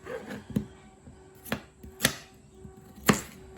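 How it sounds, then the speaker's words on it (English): A knife chops food on a cutting board in sharp, separate strikes, several hits spaced unevenly against a quiet background. "So all I do is cut this up in chunks."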